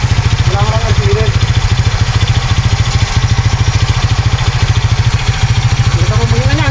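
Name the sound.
motorcycle engine idling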